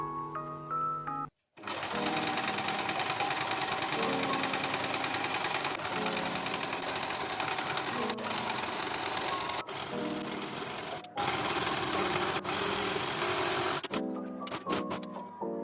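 Sewing machine zigzag stitching along a fabric strip for a prom dress, running steadily and loud with a brief pause near the start and short stops and restarts throughout.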